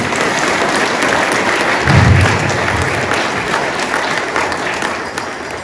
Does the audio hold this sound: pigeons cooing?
no